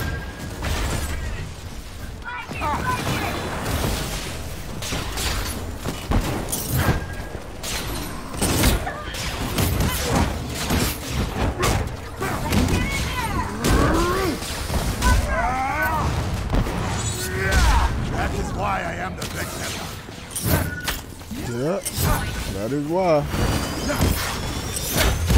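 Rapid bursts of gunfire and explosions from the video game Marvel's Avengers crackle continuously, with chatter and game effects mixed in throughout.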